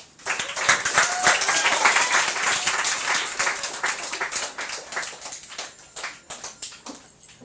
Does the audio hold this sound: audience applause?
yes